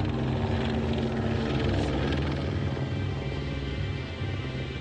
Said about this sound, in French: L'hélicoptère vient se positionner au-dessus pour avoir une vue plus plongeante sur le champ de maïs.